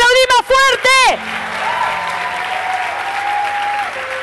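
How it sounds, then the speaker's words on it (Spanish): After a brief shouted voice, a church audience breaks into loud, sustained applause that fills the hall, with a faint sung or held tone floating above the clapping. "¡Aplaudí más fuerte!"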